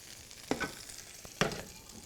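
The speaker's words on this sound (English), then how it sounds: "Put it right in our pan." Pork tenderloin stuffed with cranberry and cheese sizzles as it is set into a hot pan, with two sharp hissing bursts and a small clunk between them over a soft background hiss, close and without voices.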